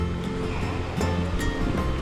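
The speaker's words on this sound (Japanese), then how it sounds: "水量すごいね。 雪解けですよね。" Fast snowmelt water rushes along a stream on a hike across the Oze marshland in spring, a steady, close roar of churning water with no talk over it.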